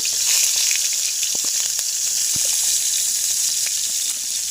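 Oil and chilli sizzle steadily in a pan while Maggi is being made, a close, continuous hiss with a few faint ticks and pops and no voices.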